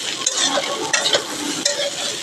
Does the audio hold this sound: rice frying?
yes